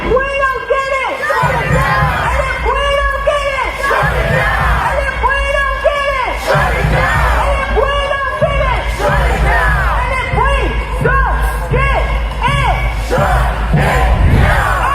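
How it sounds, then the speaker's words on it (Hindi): A street protest in the United States against war with Iran, with a large crowd chanting and yelling in loud, rhythmic bursts that repeat over and over. "अमेरिका के लोग सड़कों पर उतरकर ट्रंप के खिलाफ प्रदर्शन कर रहे हैं और चीख चीख कर कह रहे हैं कि उन्हें ईरान से जंग नहीं चाहिए।"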